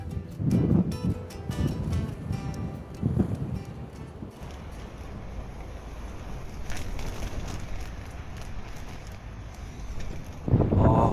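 Strong wind on Udo island, Jeju, roars steadily into the microphone with heavy buffeting gusts that swell and fade over several seconds, loud and close, and no talking.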